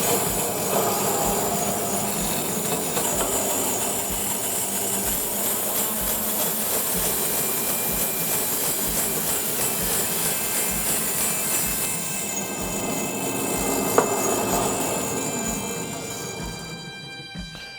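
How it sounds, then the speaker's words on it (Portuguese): Mozambique blackwood being sawn into a square blank for a wind instrument, a loud, continuous high-pitched machine whine with steady grinding that runs almost the whole way before easing off near the end. "vamos começar por serrar aqui o pau, a madeira,"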